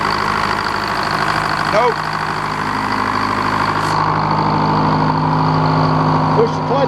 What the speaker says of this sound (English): that's a dirty old motor. Let's see if she'll start up.